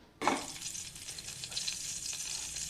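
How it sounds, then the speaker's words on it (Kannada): Chopped raw jackfruit for a dry palya sizzles in a hot pan, starting with a sudden hiss and then settling into a steady, close frying crackle with no voices. "ನೋಡಿ, ಈಗ ಚೆನ್ನಾಗಿ ಫ್ರೈ ಆಗಿದೆ."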